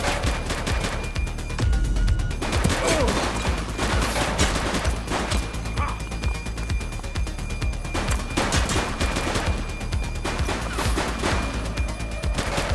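Sustained gunfire in the police shooter game The Precinct, a dense, loud stream of rapid shots running through the whole stretch with rattling bursts and no talk over it.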